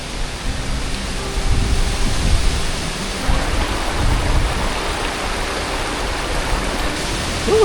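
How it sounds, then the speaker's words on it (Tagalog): Heavy rain pours near a river with waterfalls at a riverside camping site, a loud steady broadband roar that holds level throughout with no speech. "Lakas na ng ulan."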